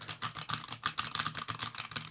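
Keys clatter in a rapid, uneven stream as someone types on a repaired Amiga 500 mechanical keyboard, each press a crisp, close click.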